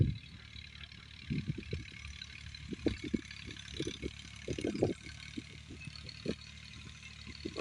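Tractor engine pulling a plough through a field being prepared for rice cultivation, a low chugging drone with uneven bursts of engine effort, fairly close and moderately loud, with no talk.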